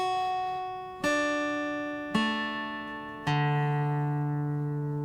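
Guitar notes of a chord plucked one string at a time, four separate attacks about a second apart, each ringing and sustaining clearly on its own with no voices.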